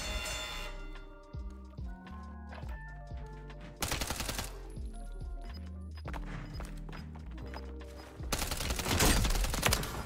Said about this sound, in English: Wow, that took a lot of shots.